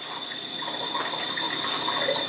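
Water being poured from a measuring cup into a pot for cooking rice, a steady continuous splashing pour that stays at an even level throughout, close by, with no talking.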